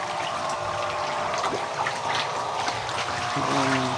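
Water pours and splashes steadily into a drum, a continuous gushing rush with some trickling and bubbling.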